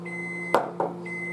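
A microwave oven beeps twice in a kitchen, short sharp tones about a quarter second apart, with a steady electronic hum underneath and no talking.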